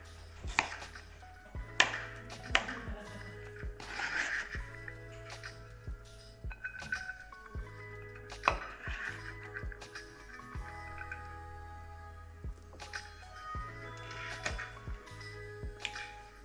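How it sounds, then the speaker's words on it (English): Knife julienning carrots on a cutting board, a series of sharp chopping taps in uneven bursts over background music, close and clear with no talking. "Next, julienne some carrots"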